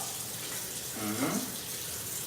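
Warm water runs steadily from a tap, a soft continuous hiss and splash heard at moderate distance, with a brief voice sounding over it midway.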